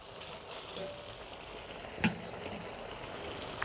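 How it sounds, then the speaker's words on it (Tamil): Ginger garlic paste sautéing in oil for a village-style chicken gravy gives a soft, steady sizzle at close range, with one brief louder clink or stir partway through. "இஞ்சி பூண்டோட பச்சை வாசம் போகிற வரையும் வதக்கிக்கலாம்"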